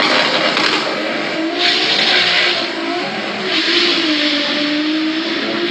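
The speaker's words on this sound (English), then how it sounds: "Good looking run for Scott" A drag race car makes a run, its engine roaring loud and continuous with rising and falling pitch as it accelerates down the strip.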